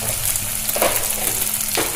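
Spices with cumin, dried red chili and ginger-garlic paste frying in hot oil for Bengali mutton kosha, a steady loud sizzle with faint stirring scrapes, close up and continuous.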